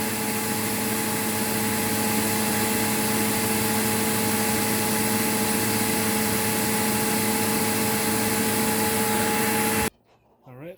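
A Eureka Whirlwind 4380 vacuum cleaner running at about 10 amps, a loud steady motor whine with constant tonal hum and airy rush for ten seconds before cutting off abruptly.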